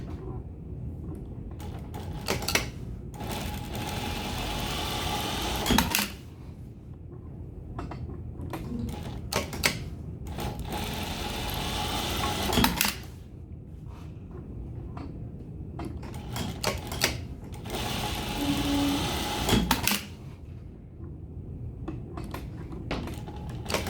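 A sewing machine stitches through fabric to form boning channels on a bustier, running in several long steady whirring bursts a few seconds each, separated by brief pauses and clicks as the fabric is repositioned.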